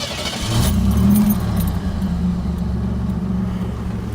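Keys jangle briefly at the start as a 1987 Buick Grand National fails to start, followed by a loud, steady mechanical whirring drone that continues without catching.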